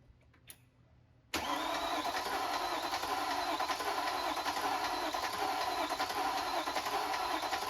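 Mercedes C63 AMG, freshly repaired with new oil, cranks and fires after a quiet second, then settles into a loud, steady idle that continues to the end.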